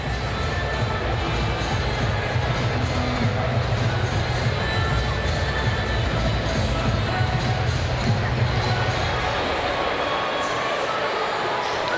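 Baseball stadium crowd at a Colorado Rockies at Los Angeles Angels game reacting to the scoreboard, a sustained, distant crowd roar and murmur filling the whole stretch, with broadcast commentary talking over it.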